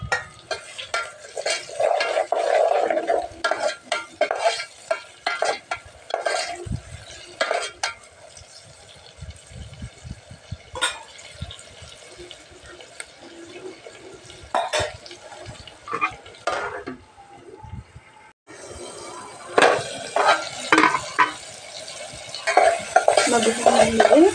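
Tomatoes tipped onto fried onion pieces in a pan for a brinjal curry, stirred and scraped with a utensil in repeated close clacks over a steady sizzle, with the stirring growing louder and busier near the end.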